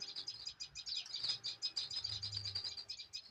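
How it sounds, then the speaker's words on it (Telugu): A busy flock of house sparrows in a garden chirps continuously in quick, overlapping bursts, fairly close, with a faint low rumble underneath. "ఇట్లా గార్డెన్లోకి రాగానే ఎన్ని పిచ్చుకలో మంచిగా ఆడుకుంటున్నాయి."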